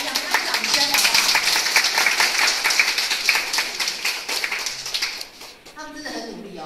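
An audience at a family summer camp event claps for five young performers, with dense sustained applause that fades toward the end as voices come in.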